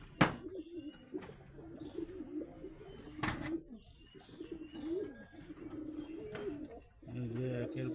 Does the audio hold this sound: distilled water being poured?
no